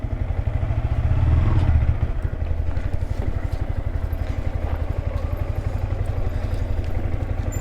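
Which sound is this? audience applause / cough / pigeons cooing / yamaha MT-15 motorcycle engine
yamaha MT-15 motorcycle engine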